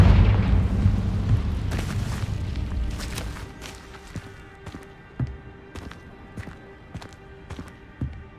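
A Confringo fire spell goes off in the video game Hogwarts Legacy as a heavy, rumbling blast that fades over a few seconds, followed by a scattering of sharp thuds and footstep-like knocks.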